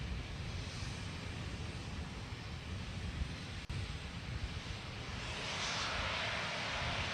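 Rocket first stage climbing supersonic through max aerodynamic pressure after launch from Florida, a steady broadband engine roar heard from far off, continuous and fairly loud with a wind-like rush, unchanging across the clip apart from one brief click.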